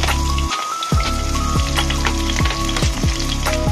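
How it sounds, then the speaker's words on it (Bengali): Chopped onion frying in hot oil in a home kitchen, a loud, close, continuous sizzle with crackling pops and occasional stirring scrapes, no talking. "তো পেঁয়াজটা আমি গোল্ডেন ব্রাউন করে এটাকে ভেজে নেব।"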